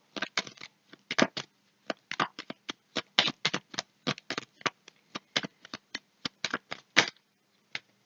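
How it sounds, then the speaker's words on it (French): Tarot playing cards laid down one after another onto a table, a steady run of crisp, close slaps and soft shuffling handling sounds with brief pauses, no voices. "Je vais recouvrir le valet de pique et la dame de carreau"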